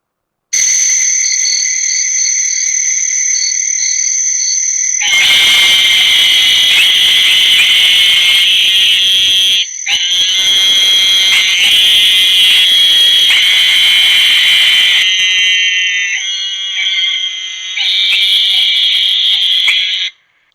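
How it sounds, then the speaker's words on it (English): A narrow-mouthed toad gives a loud, sustained insect-like buzz, like angry bees. It starts as a thin steady tone, then swells into a dense, rasping drone broken by a couple of brief pauses. "So here is the sound of a narrow-mouthed toad."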